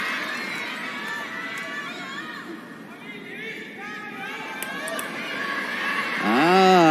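Crowd in the arena at the women's singles table tennis final in Macau cheers for Wang Yidi, excited shouts and chatter rising over the hall, then a loud burst of cheering near the end.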